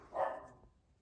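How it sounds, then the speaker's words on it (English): A single short dog bark indoors, moderately loud and close, fading quickly with no talk over it. "Oh, these dogs, man. These darn dogs."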